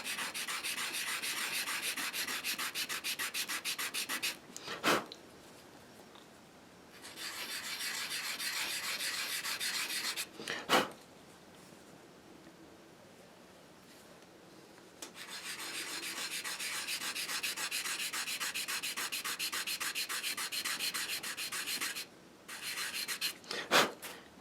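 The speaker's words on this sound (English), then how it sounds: "Now, I'm making that there edge smooth, and I want it completely straight." Strokes of sandpaper or a rasp smooth the straight wooden edge of a handmade Native American flute: close, raspy rubbing in long rhythmic bursts separated by pauses and a few sharp knocks.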